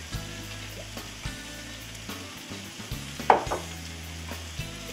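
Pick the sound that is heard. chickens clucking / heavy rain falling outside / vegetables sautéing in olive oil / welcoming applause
vegetables sautéing in olive oil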